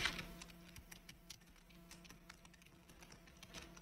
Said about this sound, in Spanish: Espero que no se escuche el teclado